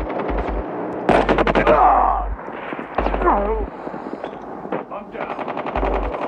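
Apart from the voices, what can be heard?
gunfire in the video game Call of Duty Mobile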